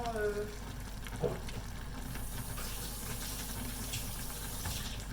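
Pork simmering in caramel sauce on the stove gives a steady, soft bubbling and frying hiss that runs evenly throughout, with a brief clink near the start.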